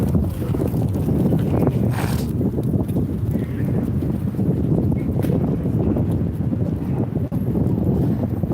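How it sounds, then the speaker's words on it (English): Strong wind gusting across an outdoor gathering at the Capitol, a constant loud roaring rush buffeting the microphone throughout with no letup. "But they got a windy day."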